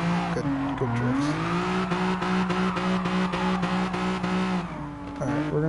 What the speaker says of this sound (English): now I'm doing good drifts